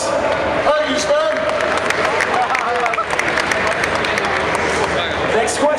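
A crowd at a gamescom 2014 stage event gives a sustained round of applause, a dense wash of clapping and cheering that fills the room, with voices mixed in.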